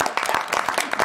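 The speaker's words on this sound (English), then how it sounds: "I think that a round of applause for our staff" Applause for park staff at a Spokane Park Board meeting, a brief burst of steady, fairly close hand clapping from a small group in the room.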